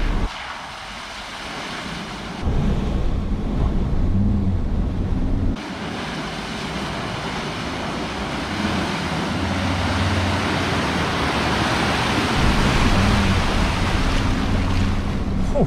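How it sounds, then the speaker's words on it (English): A car driving through a beach water crossing on Moreton Island, a continuous loud engine drone mixed with rushing, splashing water that surges and stays heavy throughout. "I think this one here is gonna see the car go pretty underwater"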